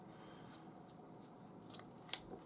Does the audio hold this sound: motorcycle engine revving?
no